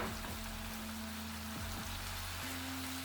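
Crushed ginger, garlic and green chili frying in oil for a lamb kadai make a dense, continuous sizzle like rain on a surface. A low steady hum sits underneath, and no one speaks.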